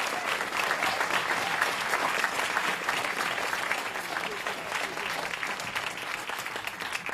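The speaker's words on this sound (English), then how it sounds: "I think we should give all of them another round of applause" Quiet, even applause from a conference audience at a plenary session, a continuous patter of many hands clapping at a distance for about seven seconds with no voices standing out.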